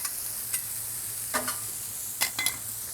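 A smashed beef burger fries on a small preheated griddle with a low, steady sizzle, punctuated by a few faint clicks and scrapes of a utensil.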